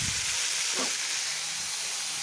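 Small fish fry in a pan over a high gas flame, giving a constant hissing sizzle with a brief bubbling burst partway through and no voices.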